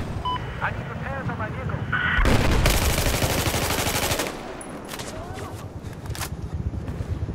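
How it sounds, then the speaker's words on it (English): Gunfire in Battlefield 4 on the Siege of Shanghai map: a dense, loud burst of automatic fire lasts about two seconds, with scattered shots and game noise on either side. A player is talking. "Okay, I shot, but I apparently didn't hit him at all."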